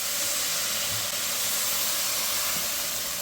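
Soy sauce hits a hot pan of frying shrimp and cabbage with garlic and ginger, giving a loud, steady, hissing sizzle that fills the whole moment without a break.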